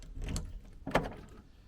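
Door lock actuator on a Ford Transit Mk7 unlocking, two quick close mechanical clunks about half a second apart, loud and alone.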